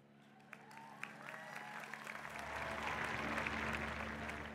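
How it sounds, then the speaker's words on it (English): A commencement audience applauds the graduates' parents, faint, scattered claps at first that swell into broad, sustained applause from a large crowd. "Your parents should also be applauded because you are here in a large part thanks to them."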